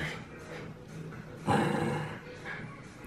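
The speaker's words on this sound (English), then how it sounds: "Why are you growling at me?" A dog close by makes low, rumbling growls and soft vocal noises, with one louder, rougher burst in the middle against a quiet indoor background.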